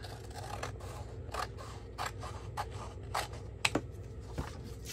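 Scissors snipping through a page cut from a hardcover book for a handmade junk journal, a series of short crisp cuts at an irregular pace, close up and fairly quiet.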